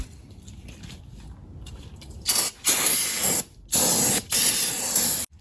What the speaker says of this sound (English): I'm going to hose it off with some of this brake clean